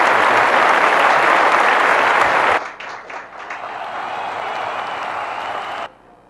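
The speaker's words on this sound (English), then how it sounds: "I brought my own applause here." Recorded applause played back over a conference-hall sound system, a dense burst of clapping that cuts off abruptly partway, followed by a quieter stretch of lingering claps and room noise before stopping.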